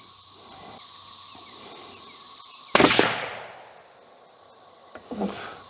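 A CVA Cascade Long Range Hunter rifle fires a single sharp, loud shot outdoors during sighting in, with a brief echoing decay over faint ambient background and birdsong.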